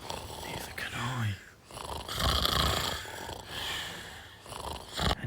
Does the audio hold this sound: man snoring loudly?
yes